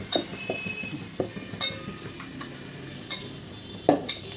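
Puran poli dough being worked with oil and powdered sugar, giving a series of light, close scrapes and soft clinks in an uneven rhythm, with a few sharper taps of a utensil against a bowl.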